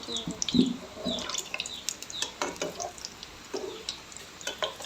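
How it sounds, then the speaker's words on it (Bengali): Luchi, puffed wheat-flour flatbreads, frying in hot oil, with soft crackling and bubbling spread through the stretch alongside scattered light clinks and stirring sounds close by. "আর এভাবে করে সবগুলো লুচি ফ্রাই করে নিয়ে নেব"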